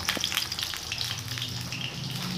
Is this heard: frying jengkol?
yes